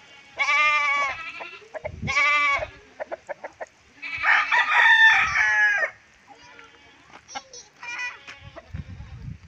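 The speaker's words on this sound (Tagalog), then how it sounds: "Andito rin nakalagay yung mga manok namin" Roosters crow repeatedly nearby, with clucking chickens and a bleating goat in between, all close and fairly loud in an open farmyard.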